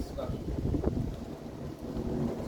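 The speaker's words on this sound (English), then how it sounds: "windy out" Steady gusty wind rumbling and buffeting the microphone outdoors, a continuous low roar with no clear pauses.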